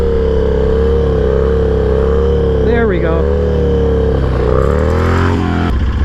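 A Harley-Davidson Sportster's engine roars loud and close, holding a steady throbbing drone that swells as the throttle rolls on to lift a wheelie, with a brief spoken remark over it.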